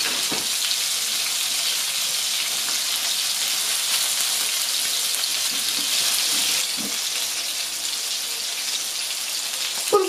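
Meatballs frying in a pan for a gypsy-style sauce dish: a dense, steady sizzle with scattered small pops and crackles, close and continuous, with no talking.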